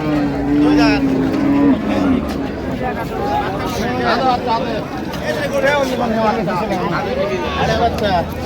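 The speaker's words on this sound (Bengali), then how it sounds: "গাভী বাছুর আমরা দেখছিলাম এখানে।" Improved-breed dairy cows and calves at Raniganj cattle haat in Dinajpur moo loudly and close at the start, then more calls follow under constant crowd chatter and people talking nearby.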